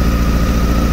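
A 2007 Honda Hornet 600 motorcycle engine idles with a steady low throb, running close and continuous with a slight uneven pulse from a misfiring cylinder.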